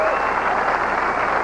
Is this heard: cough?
no